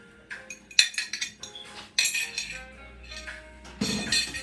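Broccoli cornbread batter mixed in a bowl with a utensil, giving quiet, irregular clinks and scrapes against the bowl in short bursts.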